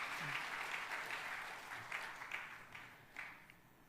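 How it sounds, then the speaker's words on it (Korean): A church congregation applauds at a revival service. The clapping is soft and somewhat distant, made of many overlapping claps in the background, with a few slightly louder sharp claps that fade as the applause tapers off. "박수. 아멘."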